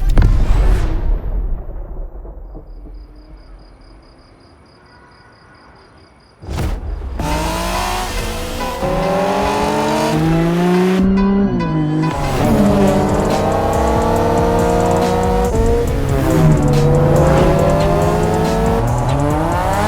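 Pack of race cars in The Crew Motorfest, a loud roar that fades to a quiet lull before a sharp burst brings engines back, revving and shifting gears with rising and falling whines up close, tires squealing under sustained racing noise.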